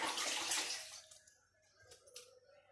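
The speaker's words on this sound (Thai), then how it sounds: "เดี๋ยวล้างมือก่อนค่ะ" Tap water gushes briefly while hands are washed in a kitchen, a close rush for about a second that fades into light trickles and small splashes.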